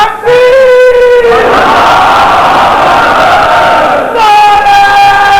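A large crowd at a religious gathering loudly chants the Takbir slogan in unison, a sustained roaring group shout after a brief tonal voice, with another voice rising near the end.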